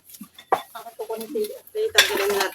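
Plates and cutlery clatter as dishes are cleared after breakfast in a hut, several close, sharp clinks and scrapes in quick succession, with people chatting around them.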